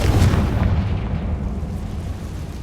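A Confringo blasting spell explodes in Hogwarts Legacy, a deep, loud rumbling blast that fills the clip and slowly fades.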